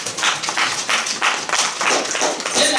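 A church congregation clapping together during a sermon, dense rhythmic handclaps in quick succession filling the room, loud and steady without speech.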